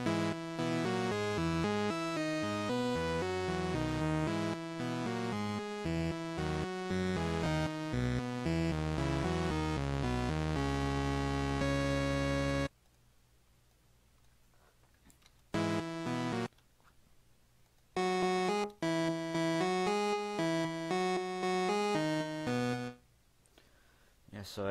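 A synth arrangement of Blumen-König built in FL Studio, dense layered melodic synth notes with a steady beat for about twelve seconds, then stopping and restarting in short fragments amid near silence.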